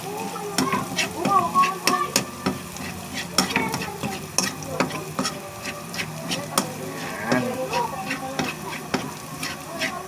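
Garlic frying in oil until golden brown, with a steady sizzle broken by frequent scraping and tapping strokes of a spatula stirring in the pan, close and fairly loud.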